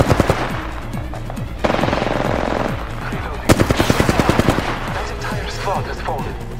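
Automatic gunfire in Apex Legends, loud rapid bursts of shots in several strings with short breaks between them, with game sounds and speech underneath.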